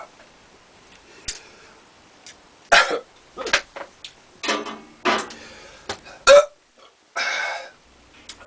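A person hiccups repeatedly, with about eight sharp, close throat bursts spaced irregularly across quiet pauses.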